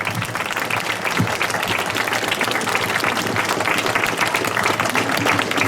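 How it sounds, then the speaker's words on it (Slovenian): An audience at a kindergarten opening gives the children a dense, sustained round of applause from many hands clapping at once, holding a steady level throughout. "Otroci si zares zaslužijo poseben aplavz."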